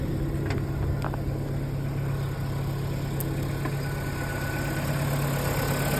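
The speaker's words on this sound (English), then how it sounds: "Still running a little bit rough, but it's cold" A Datsun engine idles cold and a little rough: a steady low rumble and drone with a faint irregular vibration, close and continuous, with no voices.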